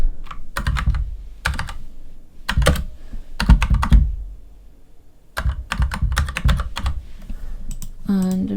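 Text being typed on a computer keyboard while laying out lettering in design software: close, loud bursts of rapid key clatter separated by short pauses, with a brief voice at the very end.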